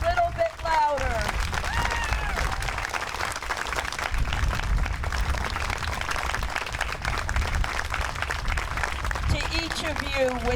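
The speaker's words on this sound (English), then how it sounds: "give them the biggest round of applause that we can give" Outdoor crowd at a Memorial Day ceremony giving a long round of applause, dense steady clapping with cheering voices mixed in throughout, loud and sustained for around ten seconds.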